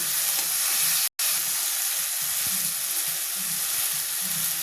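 Karola (bitter gourd) fish curry masala sizzling and being stirred in a pan, a steady close frying hiss with soft scraping strokes and one brief dropout, no voices.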